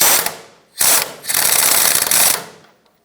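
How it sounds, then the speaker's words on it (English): Ratchet or power tool tightening the top nut on a 1996–2002 Toyota 4Runner front lower control arm, close and loud in two rapid whirring bursts, the second and longer one fading out at the end. "Tighten up the top nut."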